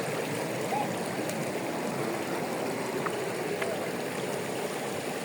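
Clear fresh river water flows in Lingayen, Pangasinan, a soft, even rushing murmur heard at a distance, faint and unbroken throughout.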